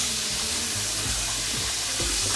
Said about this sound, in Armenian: Մինչ բամբիան տապակվում է